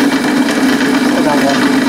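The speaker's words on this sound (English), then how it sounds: "So drill another hole somewhere else" A drill bores a hole in a plastic sheet for a scratch-built gauge 1 live steam model, giving a brief, steady, close motor whir that holds at an even level.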